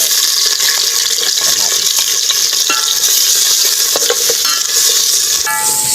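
Garlic and onion sauté in a hot pan with a steady, loud sizzle and occasional scrapes and stirs, with no talking.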